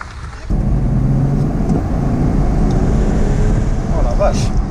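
BMW 330d E92 accelerating hard, heard from inside as a loud, steady engine and road roar that swells suddenly and holds, with a voice speaking over it.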